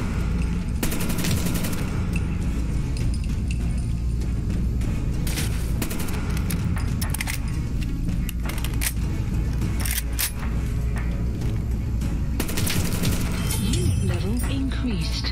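Gunfire in the heavily modded Fallout 4 game, a loud fusillade of shots with several sharp bursts scattered through, mixed with game noise while a player talks.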